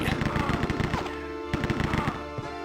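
Rapid automatic gunfire from the video game Rise of the Triad, loud bursts of close shots in quick succession, with a few heavier single blasts and a voice partly under the shooting.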